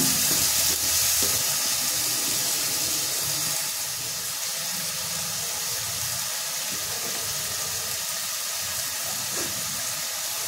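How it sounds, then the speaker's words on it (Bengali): Loud sizzling and bubbling as a little water hits ground mustard paste frying in a pan for a Bengali hilsa-head and Malabar spinach curry, hissing steadily and fading slightly after the first few seconds. "সেখানে একটু জল দেব, অল্প একটু জল"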